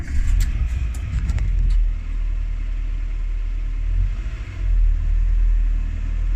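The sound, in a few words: Renault Twingo car engine starting and running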